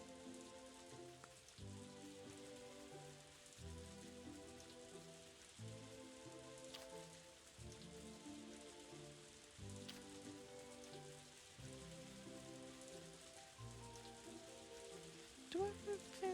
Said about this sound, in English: Oh, it just started raining.